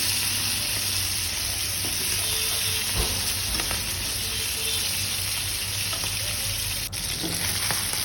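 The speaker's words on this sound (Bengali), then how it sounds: "মাছগুলো ভাজা হয়ে গেছে অনেকটা" Hilsa fish frying in hot oil in a pan, with a dense, steady sizzle and crackle that runs unbroken throughout. It is close and fairly loud, with no voices.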